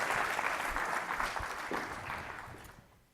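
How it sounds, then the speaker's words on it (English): A short burst of crowd applause, dense clapping that gradually fades out toward the end. "Let's give her a big round of applause"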